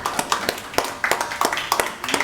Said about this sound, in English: How about a round of applause for Sue and her team?